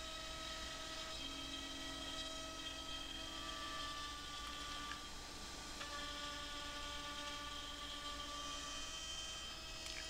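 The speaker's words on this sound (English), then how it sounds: "I place my stock on the CNC and begin cutting the features." A CNC router cuts thin alignment slits into a wooden beehive panel, giving a steady high-pitched spindle whine with shifting tones over a continuous machine hum, moderately distant and without talk.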